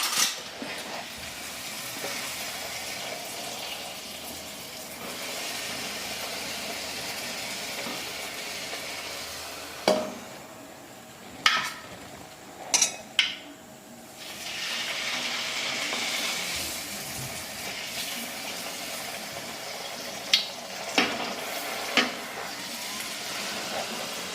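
Milk puris fry in hot oil with a steady, even sizzle that runs throughout, broken by a few sharp clicks and taps of a utensil against the pan.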